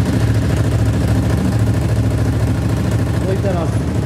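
A Yamaha Raptor quad idles close by, its engine giving a steady, even low rumble throughout, with faint voices in the background.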